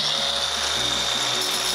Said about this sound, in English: I started with the handy dandy cordless grinder